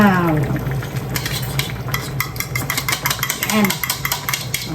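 A spoon stirs beaten egg through hot chicken lomi in a pot, with steady scraping and light sizzling clatter rising toward the end, while someone talks briefly over it.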